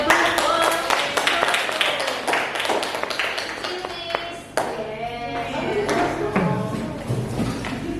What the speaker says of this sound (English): Okay, give a applause.